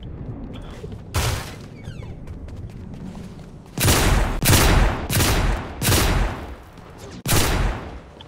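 Gunfire in Fortnite: an early single shot, then a rapid series of loud, close blasts in quick succession, each with a short decaying tail, over faint background game sounds.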